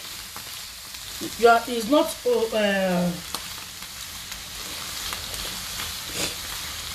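Onion and garlic fry in a pan with a steady broad sizzle throughout, while a voice speaks briefly over it near the start.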